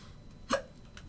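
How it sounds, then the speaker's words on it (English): A single short hiccup from a man sitting at a trading desk pops out once, sharp and close against a quiet room. "Excuse me, I have the hiccups."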